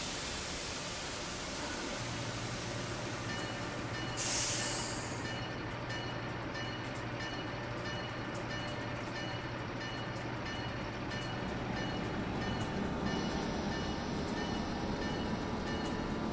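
An Amtrak AEM-7 electric locomotive departs a station bound for Washington Union Station, giving a steady, loud rolling rumble and hiss with a low electric hum that holds for most of the stretch, with no voices.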